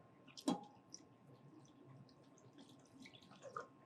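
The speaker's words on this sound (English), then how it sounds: "I'm actually going to add a little bit more water." Water is poured into a pot of sweet corn grits: a short splash near the start, then faint trickling and a second small splash, with no talking.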